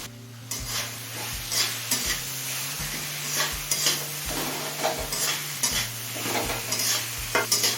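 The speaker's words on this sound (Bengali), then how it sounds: "এবার টমেটো নরম হয়ে আসা পর্যন্ত কষিয়ে নেব" Chopped tomato sautéing with spices in a pan over a high flame, a constant sizzle broken by a steady run of spoon-on-pan scraping strokes, close and loud.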